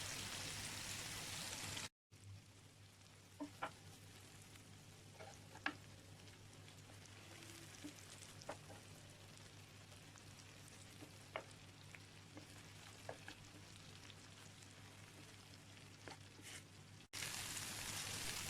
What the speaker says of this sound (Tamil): லோ ஃப்ளேமில் வச்சு ஃப்ரை பண்ணுங்கள்